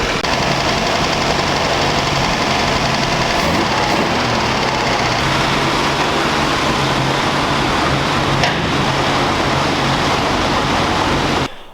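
An old engine idles steadily after its carburetor idle screw has been turned in, a continuous low rumble with a faint rhythmic knock, loud and unbroken with no talk over it.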